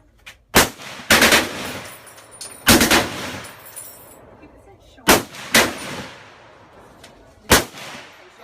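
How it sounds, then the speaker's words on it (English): Gunfire at the Cu Chi Tunnels shooting range in Vietnam: loud, close, sharp reports in short bursts of two or three and single shots, each with a booming echoing tail, spaced irregularly across the stretch. "So I'm gonna go shoot a gun."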